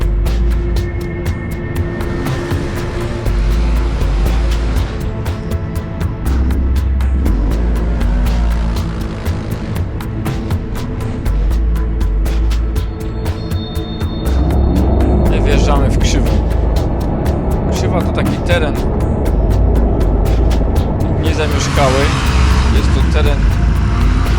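A Can-Am Maverick UTV churns through mud near a dump, its engine droning loud and steady for the whole stretch, rising and roaring harder in places, with no talk.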